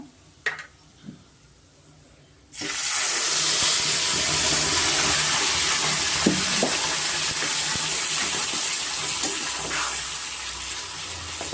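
Raw ground masala puree hits a hot pan for an aloo fry curry, with a few soft clinks first and then a sudden loud, steady sizzle and hiss that fills the rest of the clip.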